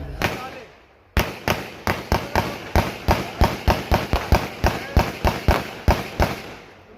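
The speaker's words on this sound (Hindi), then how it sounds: "मुझे इस फायरिंग से शदीद नफरत है।" Celebratory gunfire at an election victory rally in Azad Kashmir, about seventeen sharp loud shots fired in a steady, rapid rhythm after a single opening crack and a short pause, each report ringing out briefly.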